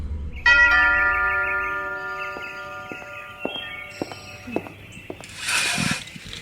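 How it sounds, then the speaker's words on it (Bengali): A doorbell in a Bengali audio drama gives a clear ringing chime that decays slowly, followed by scattered soft footsteps and a short rustle near the end. "উঠে গিয়ে আবার কলিং বেল টিপল"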